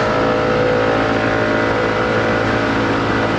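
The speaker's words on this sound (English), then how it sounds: "I'm going to have to do my review next to a busy road." Busy road traffic makes a continuous, loud roar of passing vehicles with a steady engine hum, unbroken for the full stretch and with no voices over it.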